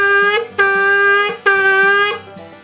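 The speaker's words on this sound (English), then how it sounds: "The next sound is called shvarim, and it's 3 sounds" Three broken blasts of a shofar sound the shvarim call, each a bright, loud horn tone lasting under a second with short gaps between, over soft background music.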